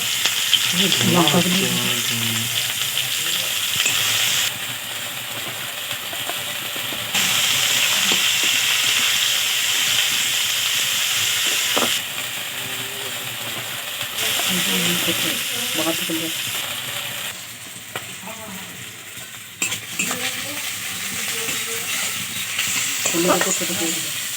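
Onions sizzle and fry steadily in a hot pan for village-style kochu shak, with periodic stirring scrapes and a constant hissing wash, while a voice talks intermittently over the cooking.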